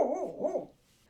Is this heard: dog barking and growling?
yes